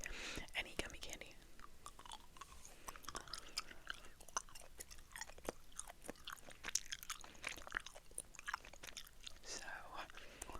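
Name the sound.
chewing gummy candy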